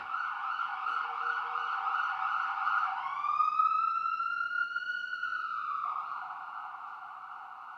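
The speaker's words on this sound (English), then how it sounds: "wherever that ambulance is rushing off to, may it arrive there on time" An ambulance siren wails steadily and loudly, its tone shifting partway through as the vehicle passes, then fading slightly as it moves away.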